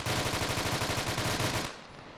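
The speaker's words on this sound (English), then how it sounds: "They're firing inside the building." Sustained automatic gunfire inside a building in Fireteam, a fast, even rattle of shots that stops abruptly near the end, leaving quiet.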